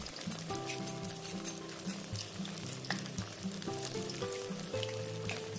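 Tofu fritters (bakwan tahu) fry in hot oil with a steady, dense crackle and sizzle, punctuated by brief clinks of a utensil against the pan, close and continuous with no one speaking.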